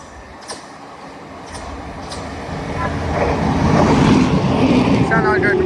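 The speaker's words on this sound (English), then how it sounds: "Soon to pass will be a Southern service going from Eastbourne to London Victoria." Southern train service from Eastbourne to London Victoria approaching at South Croydon, a rumble that builds from faint to loud as it draws near, with a brief higher squeal at the end.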